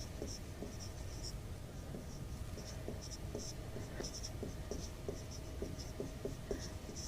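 A chalk or pen taps and scratches on a board with short, regular strokes, faint and close against a steady background hiss while writing out a science calculation.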